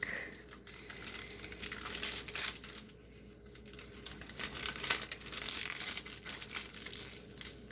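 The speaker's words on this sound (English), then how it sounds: "Peel up the plastic." Plastic film crinkles and tears as it is peeled slowly off the sticky surface of a diamond art canvas, a steady close rustle lasting several seconds with a brief quieter pause midway.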